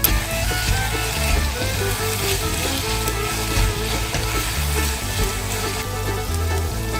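Crepe filling, a kabsa topped with coriander and parsley, sizzling and frying in a pan, with crackling spatters and occasional stirring scrapes, close and continuous.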